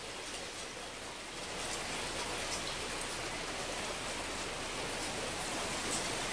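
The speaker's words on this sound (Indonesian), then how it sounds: "ini teman-teman hujannya semakin besar" Heavy rain falls in Mecca as a dense, continuous hiss that grows slightly fuller after the first couple of seconds, steady and enveloping with no voices.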